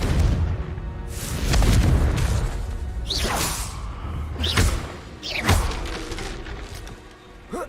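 Confringo blasts in the Hogwarts Legacy video game, a few whooshing bursts with thumping booms at irregular intervals over a dense rumbling game background.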